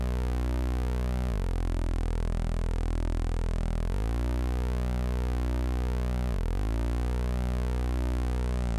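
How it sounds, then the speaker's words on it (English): A Korg Monotron Delay's saw wave playing a harmonically rich bass line, a loud, buzzy sustained tone that jumps between a few low notes with quick pitch swoops, alone without talking. "Then we can use the saw wave from the Monotron delay,"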